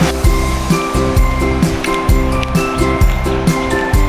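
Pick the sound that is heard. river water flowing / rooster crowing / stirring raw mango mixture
river water flowing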